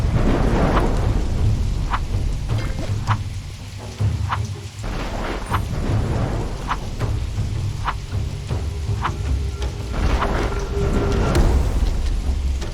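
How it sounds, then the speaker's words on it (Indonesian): Rain pours steadily in a Minecraft-style island scene while thunder rumbles again and again underneath, with sharp drip-like ticks scattered through the downpour and no one talking. "Tapi apesnya hujan mulai turun"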